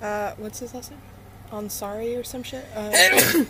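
A sharp, loud sneeze bursts out near the end, following a stretch of casual conversation between people nearby.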